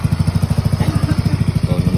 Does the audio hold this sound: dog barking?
no